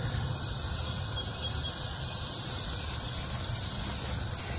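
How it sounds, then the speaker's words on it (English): Cicadas drone in a garden with fruit trees, a steady high-pitched buzzing that holds unbroken from start to end, fairly loud and unaccompanied by talk. "One of them flew on my neck, those cicadas. They fly on you and they scream."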